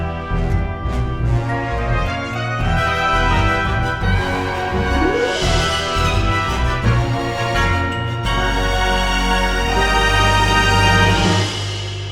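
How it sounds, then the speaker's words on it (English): A short, spooky, haunted-sounding music piece in the octatonic scale, loud and sustained with layered dark harmonies, shifting melodic lines and a deep low bass entering partway through, purely instrumental. "spooky, haunted sounding piece."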